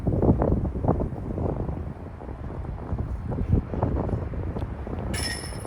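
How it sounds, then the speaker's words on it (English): Strong, gusty headwind buffeting the microphone on a disc golf course, a steady low roar with rushing surges throughout and a brief high-pitched tone near the end. "And into a ripping headwind"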